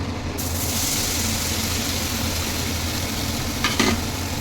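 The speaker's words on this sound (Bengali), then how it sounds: "পনিরগুলো জাস্ট হালকা করে ভেজে নিতে হবে" Paneer cubes frying in hot butter in a pan, a steady, loud, even sizzle throughout with a brief clatter of stirring near the end.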